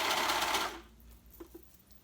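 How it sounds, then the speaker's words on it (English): A serger stitches a sleeve onto a garment in a short, fast whirring burst that stops abruptly, followed by a couple of faint handling clicks. "now I'm serging the sleeve on"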